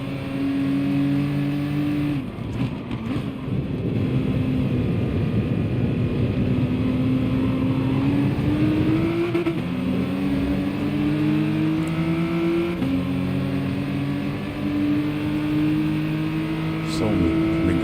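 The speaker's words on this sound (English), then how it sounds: "So McLaren is quick in acceleration, as it seems." McLaren race car in GT Sport accelerating through the gears, a steady loud engine drone that climbs in pitch, drops at each shift and climbs again, with a voice talking over it.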